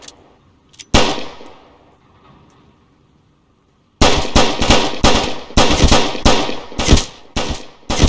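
Handgun fire in the police game Flashing Lights: after a single sharp crack and a quiet pause, a rapid, loud string of close shots follows, with uneven bursts running to the end.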